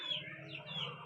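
A chicken gives a short pair of clucking calls, close and fairly quiet, with no talk over it.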